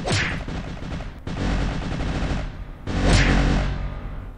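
Two heavy blasts of cannon fire in the Roblox game Build a Boat, each a loud boom followed by a rumbling, crackling tail, about two seconds apart.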